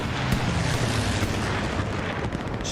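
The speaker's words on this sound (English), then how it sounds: "Strafing runs and Katushka Strikes already a galore coming in on this match." Katyusha rocket barrages land in a large multiplayer war game match on the Kharkov map, a dense, continuous roar of overlapping blasts and rumbling impacts with no clear gaps.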